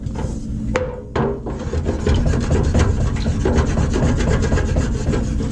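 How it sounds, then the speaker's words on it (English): A wooden spoon scrapes and rubs steadily against the bottom of a pan, a dense rasping sound that grows louder and continuous after a brief pause. "deglazing the pan is getting all the little brown bits off the bottom"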